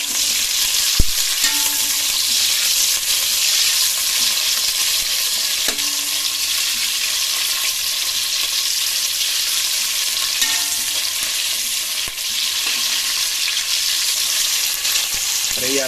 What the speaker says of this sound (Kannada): ನೋಡ್ತಾ ಇರ್ಬೋದು, ದಪ್ಪಮೆಣಸಿಕಾಯಿನ ಫ್ರೈ ಮಾಡ್ಕೊಳ್ಳೋಣ.